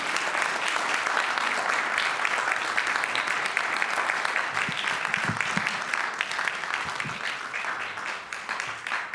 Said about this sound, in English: an enormous, huge, big round of applause